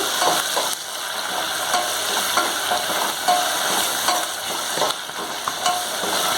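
Onions frying in a pan for chicken biryani, a loud close sizzle with repeated stirring scrapes and clinks of a spoon against the pan, no voices.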